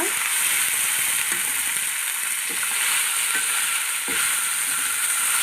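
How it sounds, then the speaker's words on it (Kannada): Garlic fish fry sizzling loudly in hot oil in a pan as the pieces are turned, a dense continuous hiss close up with a few soft knocks from the spatula, no talking. "ಇವಾಗ ನಮ್ಮದು ಫಿಶ್ ಫ್ರೈ ಟರ್ನ್ ಮಾಡಿ ನೋಡೋಣ"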